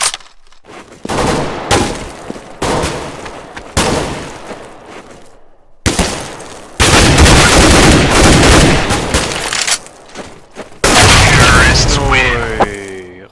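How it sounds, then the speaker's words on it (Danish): Rapid gunfire from a Counter-Strike style shooter game, sharp repeated cracks and bursts in loud clusters, near and dense, with a voice talking over parts of it. "Jeg kan godt bare lide, at jeg bare kan se skud, der bare flyver efter du har skudt skuden af."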